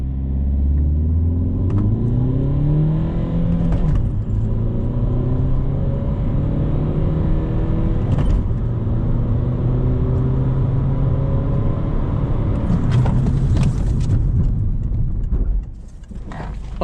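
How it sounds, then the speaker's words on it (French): A Peugeot 207 CC 1.6 HDi diesel with 112 hp accelerating hard in a 0-100 km/h run, a loud close engine drone rising in pitch through several gear changes, with rumbling road and wind noise. "essayons le 0-100 pour voir l'accélération et le freinage"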